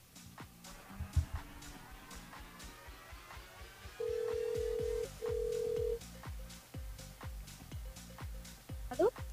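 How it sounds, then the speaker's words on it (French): During a live French call-in radio show, a telephone line rings out as two long, steady tones in the middle of the clip. Softer rhythmic background sounds play throughout. "on appelle Lucie sur le standard de l'émission"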